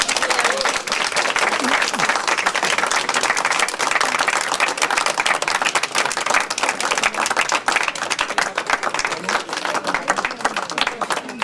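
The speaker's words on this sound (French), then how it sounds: "Et on peut s'applaudir." An audience applauds loudly at the closing of a poetry festival, with steady crowd clapping throughout and voices mixed in beneath it.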